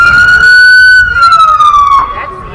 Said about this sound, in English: That's the ambulance, huh?